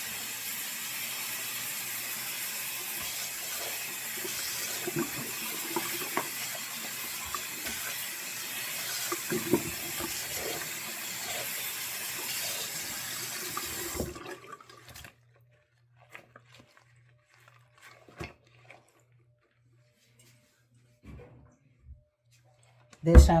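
Lukewarm tap water runs steadily into a sink while a human hair wig is washed, a broad hiss that stops abruptly partway through, leaving quiet handling clicks and knocks.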